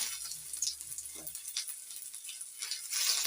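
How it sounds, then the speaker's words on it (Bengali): Ginger frying in hot oil with cumin for cauliflower paratha, a faint, steady high sizzle throughout with a low rumble in the first second. "আদাটা ভালো করে তেলের সঙ্গে ভাজা ভাজা করে দিচ্ছি"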